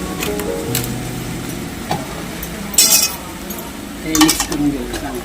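Salted chicken being mixed in a pot, with a few clinks and scrapes of a metal spoon against the pot over a low simmering hiss, close by.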